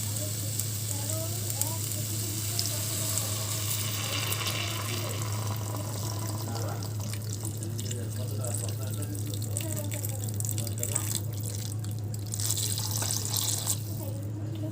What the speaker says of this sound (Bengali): তো জলটা আমি আগে দিয়ে নিই। এটা আমি কোনো গরম জল দিচ্ছি না, আমি নর্মাল জলই দিচ্ছি।